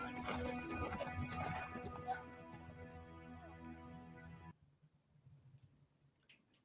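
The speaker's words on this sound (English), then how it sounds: "Horses." Horse hooves clip-clop in a quick rhythmic patter amid background noise, then fade abruptly to near silence with a few faint clicks.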